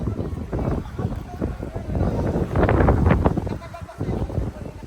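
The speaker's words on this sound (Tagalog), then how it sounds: "Taas ang hangin." Strong gusty wind at a rock formation buffets the microphone in loud, uneven rushes and rumbles, swelling and easing over a few seconds.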